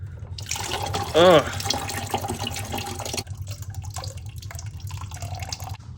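Water runs and splashes steadily as coolant drains from a BMW E36 radiator into a bucket, under a low hum, with a brief gurgling burst early and a softer trickle afterward.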